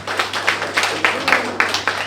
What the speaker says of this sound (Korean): 큰 박수 부탁드리겠어요.